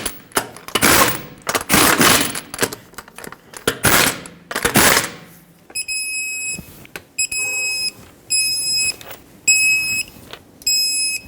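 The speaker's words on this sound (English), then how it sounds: "in a cross pattern, you're going to want to torque this to 83 foot-pounds" Lug nuts on a Nissan Pathfinder wheel are tightened in a cross pattern: loud rattling bursts come first, then a run of short, high electronic beeps in repeated groups, close and clear.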